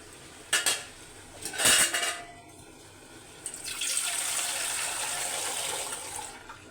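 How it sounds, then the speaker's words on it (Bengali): Broth poured into fish curry cooking with country tomatoes in a pot: a couple of metallic clanks from dishes and a ladle, followed by a steady liquid pour that runs several seconds. "একটু ঝোল দিয়ে দেবো। ঝোলের পরিমাণটা কমই দিলাম"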